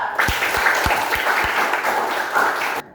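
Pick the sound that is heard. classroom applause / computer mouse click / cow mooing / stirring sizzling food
classroom applause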